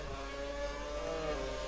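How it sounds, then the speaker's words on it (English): A Sauber Formula 1 car fitted with a GP2 engine in an F1 video game revs in a steady, loud, buzzing engine drone with no speech over it. "Sauber, GP2 engine."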